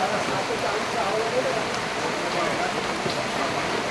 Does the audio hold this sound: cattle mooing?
no